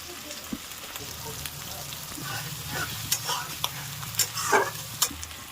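Ground paste of green and dried chilies frying with young jackfruit in a pan: a steady low sizzle with several sharp scraping stirs clacking against the pan toward the end.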